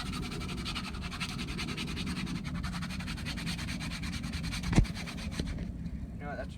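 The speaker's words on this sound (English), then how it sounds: "I'm gonna sand this off just a little bit more." Continuous rhythmic rasp of sandpaper rubbed back and forth over a homemade wooden spiked bat, close and steady for several seconds with a brief knock near the end.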